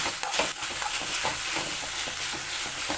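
Okra with turmeric powder being stirred in a pan, continuous close sizzling with repeated scraping strokes of a spoon against the pan and no talk.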